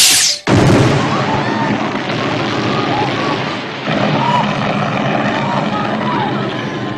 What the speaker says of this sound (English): Detective thrills the audience and explodes the shit out of this room, killing himself and the slug aliens.